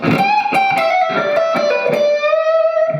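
A distorted electric guitar plays a quick blues lick, picked notes and hammer-ons leading into a long sustained bent note, loud and close.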